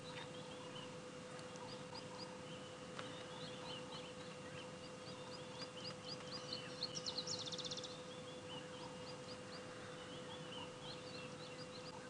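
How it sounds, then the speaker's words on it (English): Birds calling during an early-morning sunrise safari drive, with scattered faint chirps and a brief rapid trill over a steady low engine-like hum and ambient noise. "I know some of you can hear some of the birds calling."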